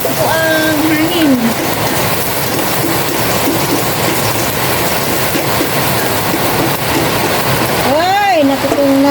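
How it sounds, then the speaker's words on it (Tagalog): Heavy, steady rain hisses loudly throughout, with birdlike whistling chirps rising and falling near the start and end. "Ulan na po, ulan na."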